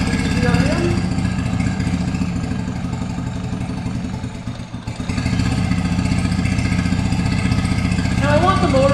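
A Mercury 9.9HP outboard motor idles after a carburetor rebuild, a steady close mid-pitched putter that dips briefly in the middle before settling back to an even rumble.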